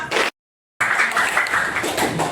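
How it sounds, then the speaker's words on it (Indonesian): A classroom of students claps together in a dense, brief burst of applause that cuts out for a moment and then resumes. "Tepuk tangan untuk kita semua."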